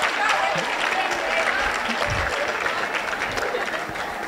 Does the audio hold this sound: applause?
yes